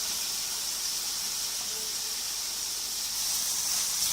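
Fresh lemon juice poured onto hot fried mutton liver gives a steady, close sizzling hiss that stays constant throughout without a break.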